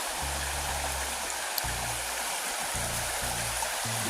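Continuous rushing water from a flowing river, steady and full, with a constant low murmur throughout and no one speaking.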